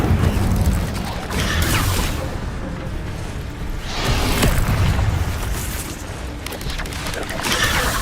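Fire and stun spell effects in Hogwarts Legacy gameplay on PC, repeated loud booming bursts and whooshing blasts in waves, with game mechanisms and effects rumbling underneath.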